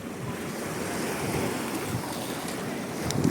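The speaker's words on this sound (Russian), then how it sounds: "Во, прибойчик" Black Sea surf washes onto a beach, a continuous close roar of breaking waves with wind buffeting the microphone and no voices.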